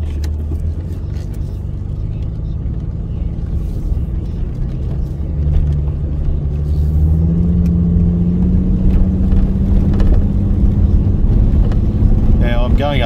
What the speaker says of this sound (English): Going up this hill, and I've got a fair bit of acceleration on there